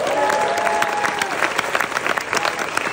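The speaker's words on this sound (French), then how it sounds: "Je crois qu'on peut les applaudir." An audience at an event claps for the organizing teams, giving dense, loud applause throughout with a few voices mixed into the crowd noise.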